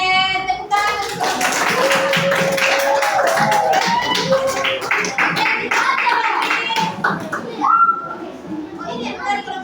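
A group of people claps hands together during a classroom training lesson, a dense run of sharp claps with children's voices, chatter and whistle-like tones mixed in, ending with scattered talk.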